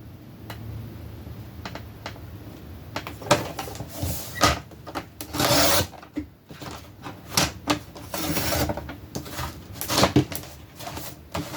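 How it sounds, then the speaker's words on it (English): Chipboard for a craft project is cut in a series of short, close scraping and clicking strokes of uneven rhythm, with louder crunchy passes around the middle and a few sharp taps in between, and no voices. "So now we're going to cut this chipboard."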